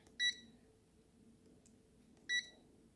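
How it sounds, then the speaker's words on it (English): A multimeter gives two short, bright beeps about two seconds apart while testing continuity across the fuse of a Ninja AF101 air fryer, with a quiet room hum in between. "And that's gonna make a beep when there is continuity"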